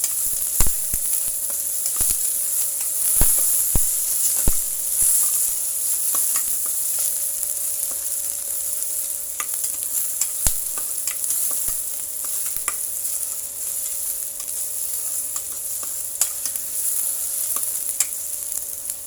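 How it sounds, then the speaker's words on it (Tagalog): Onion and garlic sauté in a pan while cooking pinakbet, a continuous even sizzle with sharp intermittent clicks of a utensil stirring against the pan, no voices. "gisa para lumabas ang kanyang flavor"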